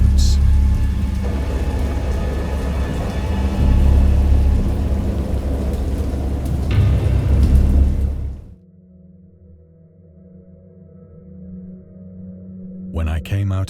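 Heavy rain and rumbling thunder from a horror video game storm, a dense, loud downpour that cuts off abruptly, leaving quiet low ambience and faint tones.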